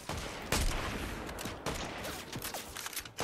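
Gunfire crackles through a Fortnite match, with sharp repeated shots and bursts over a steady bed of game noise, some reports near and punchy, others thinner and more distant.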